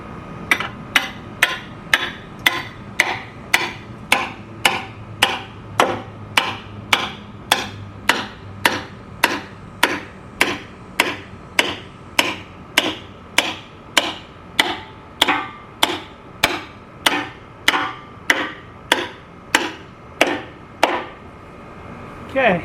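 Steady, evenly spaced hammer blows drive nails into a wooden chicken nest box, each strike sharp and close, repeating about every half second for a long run.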